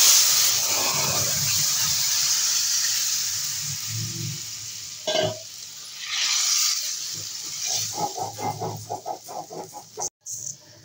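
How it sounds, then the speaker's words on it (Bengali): Cumin seeds and bay leaf tempering in hot oil for a silver carp curry with green stalks, a steady hiss with a sharp crackling burst midway and clattering, spattering pops toward the end. "ফোড়নে দেবো জিরে তেজপাতা।"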